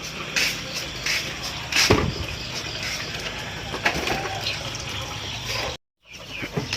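Black Australorp and Rhode Island Red chicks are being loaded, heard as repeated short peeps and chirps over light rustling and handling noise, with a brief moment of silence near the end.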